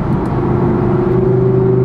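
An Audi R8 V10 Plus in normal mode with its exhaust valves closed gives off a steady, subdued low hum and drone while driving, with no revving or talking.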